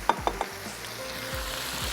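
Eggplant pieces dropped into a hot pan for aloo baingan, three quick clattering hits as they land, followed by a steady crackling sizzle of frying oil close by.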